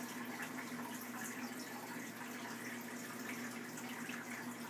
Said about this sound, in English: we need to fill it with some tank water.